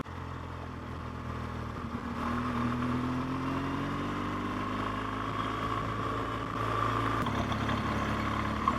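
A motorcycle cruises along roads in Galicia, its engine a steady close droning rumble with a rising whine as it gathers speed, mixed with constant wind noise.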